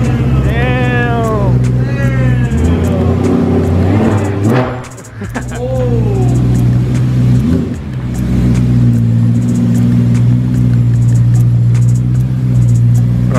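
BMW S55 M2 Competition with a secondary cat delete and carbon fiber exhaust tips, revving hard: loud rising and falling engine sweeps up front, then a steady close idle drone, with people talking over it.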